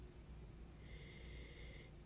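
A person takes a short sniff from a glass of wine held close to the nose. The soft nasal intake is quiet and brief, set against a faint background hiss.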